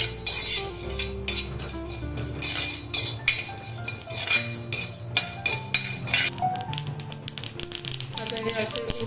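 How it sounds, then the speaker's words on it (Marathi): Flax seeds roasting in a pan, with repeated light clinks and scraping taps of a utensil against the metal over a continuous busy background, while a voice talks throughout. "आता आपण ह्याच्यात ते फ्लेक्स सीड्स भाजून घेऊया।"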